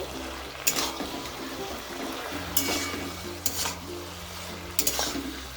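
Chili powder and spices are stirred into a Malabar spinach curry in a pan, with soft scraping and a low simmering hiss, punctuated by four sharp spoon knocks against the pan.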